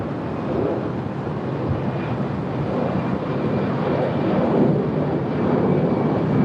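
An airliner landing on runway 24 right at LAX, heard as a sustained, broad jet roar that swells slightly toward the end, with wind buffeting the microphone.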